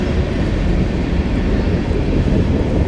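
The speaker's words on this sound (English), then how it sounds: "There it goes. Woo, it's loud. Turn around. There goes the train." A loud train rumbles past at close range during a night bicycle commute, a dense, steady roar filling the whole clip without a break and with no voices over it.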